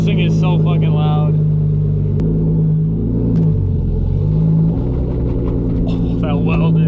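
An engine-swapped BMW E36 drives with a loud, deep exhaust drone and low rumble that swells and eases as the throttle changes, heard from inside the car while someone talks over it.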